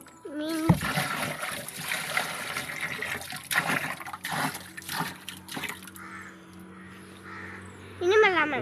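Water poured onto a giant snake gourd plant in a garden, with splashing and gushing bursts up close; crows caw nearby and voices talk intermittently over it.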